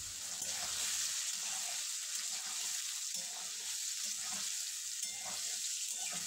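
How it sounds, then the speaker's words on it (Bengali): Amla (Indian gooseberries) frying in a pan for pickle, a steady close sizzle with crackling bubbling throughout and a few soft stirring scrapes, no voices. "এক থেকে 2 মিনিটের মতো আমলকিগুলো ভেজে নেব"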